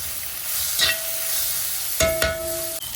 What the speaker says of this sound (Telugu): చూడండి, పుదీనా అంతా వేగిపోయింది.